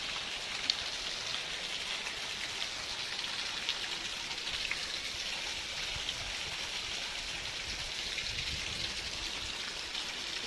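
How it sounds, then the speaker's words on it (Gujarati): Heavy rain pours steadily over a village, a dense, even hiss of drops on surfaces with no pauses, close and enveloping for the whole stretch. "જોઈ શકો છો અમારા ગામડામાં આવી ગયો છે ફૂલ વરસાદ"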